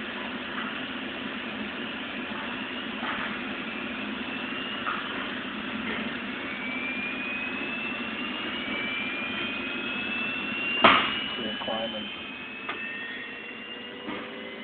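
A Jaeger high-frequency spindle fitted with a single-flute tool spins up, a steady high whine with a rising tone that climbs through the run, plus a sharp click near the end, with no talk.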